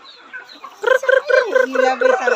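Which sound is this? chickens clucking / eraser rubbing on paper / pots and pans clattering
chickens clucking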